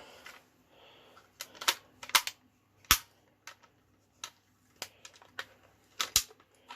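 A Dart Zone Max Outlaw toy blaster is handled and fired: a series of sharp, dry snaps and clicks at irregular intervals, several strong, close cracks among fainter mechanical clicks, in a quiet room with no talk.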